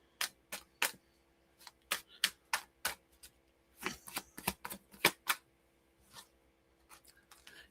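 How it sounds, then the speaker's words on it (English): Sharp, papery snaps and riffles from a deck of tarot cards being shuffled, arriving in irregular bursts and clusters with brief pauses between them, close and fairly quiet, with no voices. "I just shuffled these cards."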